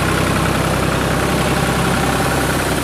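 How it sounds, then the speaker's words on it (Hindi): A tractor engine drives a rear-mounted air compressor feeding sand for sandblasting granite, giving a loud, steady, continuous mechanical drone with a low rumble and broadband hiss throughout, with no speech. "ये ट्रैक्टर है, इसमें एक कंप्रेसर लगा हुआ है पीछे की साइड में"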